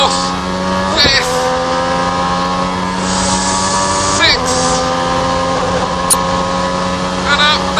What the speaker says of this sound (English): listen to that V12 chiming in